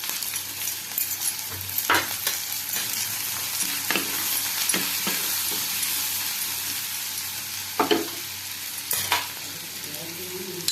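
Chilli mushroom stir-fries in a pan over a high gas flame, giving a continuous loud sizzle with occasional scraping strokes of a spatula.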